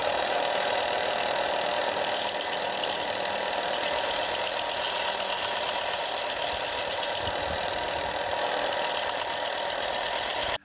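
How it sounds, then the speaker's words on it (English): A bench sander smooths pewter castings held against the machine, a steady, loud broadband grinding whir that runs unbroken and close for the whole stretch, with no talking. "so I can just hold it up to the machine and sand that back"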